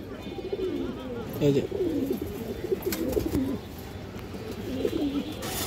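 Domestic pigeons at a breeder's loft coo in soft, repeated low rolling calls close by, steady throughout, with a brief spoken interjection partway through.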